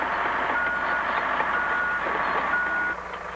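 A crawler dozer reverses with its backup alarm beeping over a steady, rumbling engine and track noise, heard from a moderate distance without speech.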